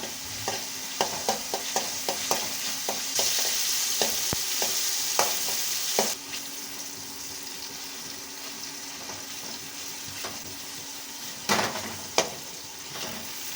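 Maggi noodles frying in oil over a high flame, a bright steady sizzle with quick spatula taps and stirring scrapes up close, easing to a quieter fry with a few later clatters, no speech.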